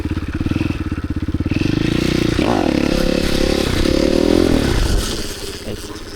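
A supermoto dirt bike engine pulses in a fast throbbing idle, then settles into a loud steady drone with a brief rising pitch sweep before dropping away, heard up close as the rider holds a wheelie on clutch and rear brake.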